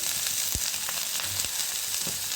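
Bottle gourd pieces with turmeric, onion and curry leaves cooking in a hot pan: a dense, even sizzle with a couple of low thuds from stirring, heard close without speech.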